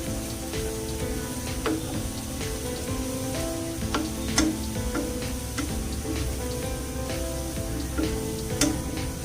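Washed, cut mushrooms for keto butter garlic mushroom sizzle steadily in a hot buttered pan, a continuous bright frying hiss with occasional sharp pops and soft stirring scrapes.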